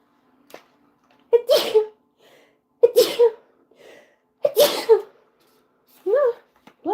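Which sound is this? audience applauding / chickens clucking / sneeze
sneeze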